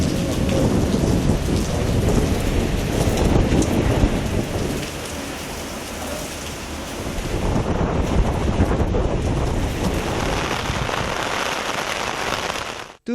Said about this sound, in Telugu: తూర్పుగోదావరి జిల్లాలో బలమైన ఈదురుగాలులతో వర్షాలు కురుస్తున్నాయి.